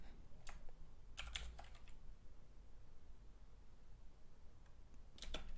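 Computer keyboard typing Java code for a Minecraft Spigot plugin, quiet scattered bursts of clicky keystrokes with pauses between them, close and alone.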